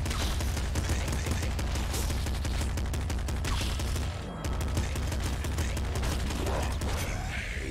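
Rapid machine gun fire in the top-down shooter Nuclear Throne, a dense, steady stream of clipped electronic shots with mechanical clanks, running almost without pause over a game soundtrack.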